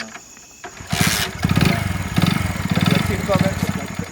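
A motorcycle engine is kicked or cranked into life after a quiet start, then runs with a steady, pulsing idle close by while people talk over it.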